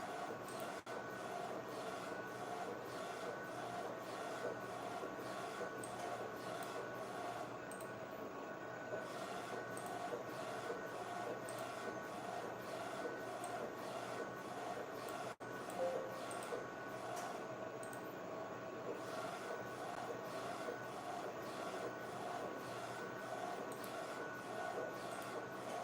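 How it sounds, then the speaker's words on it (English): A DTF printer prints t-shirt graphics with a steady mechanical whir and a rapid, regular ticking of the print head shuttling back and forth, faint and continuous throughout. "See me here printing graphics for my t-shirt"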